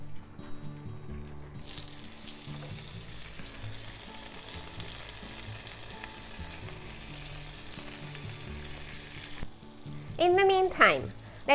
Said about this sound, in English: let's cook the egg, edamame and sausages all at once